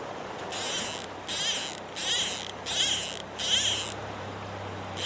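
Grasshoppers buzz beside a river in the Verdon, a run of five evenly spaced rasping bursts of shrill stridulation over a steady background hiss of flowing water, fairly close and with no voices.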